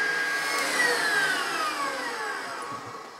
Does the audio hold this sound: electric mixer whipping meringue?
yes